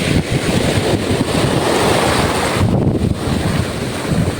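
Strong northeast monsoon wind roars continuously into the microphone, loud and buffeting, with a brief lull midway.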